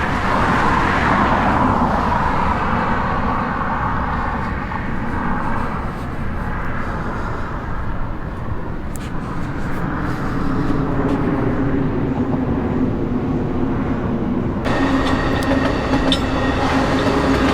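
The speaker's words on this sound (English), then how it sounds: "And we have a commuter train here, the Pacific Surfliner, passing under the bridge." A Pacific Surfliner commuter train rumbles past beneath a bridge in Los Angeles, a loud, sustained roar with rail clatter that holds steady throughout, then brightens toward the end.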